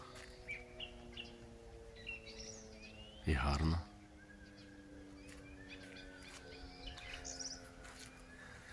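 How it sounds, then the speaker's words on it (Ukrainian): Light bird chirps and calls in springtime Kharkiv scattered throughout, mostly faint and distant, with a short burst of speech in the middle. "І пташки співають."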